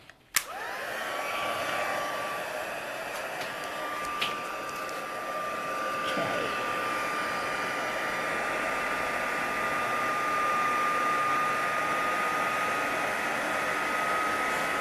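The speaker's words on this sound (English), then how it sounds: "and then we grab our embossing tool" Heat embossing tool blasting hot air over embossing powder, a steady loud whooshing drone with a high whine running close and continuous for about fifteen seconds, with a few faint clicks.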